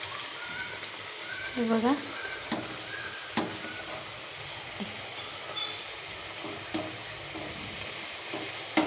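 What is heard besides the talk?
frying green pea puris in oil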